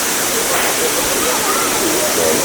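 The main waterfall at Kuang Si, Laos, pours in a heavy, steady roar close by, with a faint voice barely surfacing beneath the constant rush of water.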